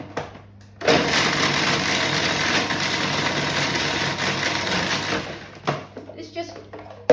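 Food processor whizzing chopped chocolate with vegetable oil, a loud, steady motor whir close by for about five seconds before it stops, followed by a few clatters of the bowl or lid.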